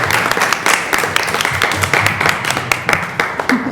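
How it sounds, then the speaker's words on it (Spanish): A small group at a council session claps, a close, uneven patter of individual hand claps that continues steadily without talk. "aplauso"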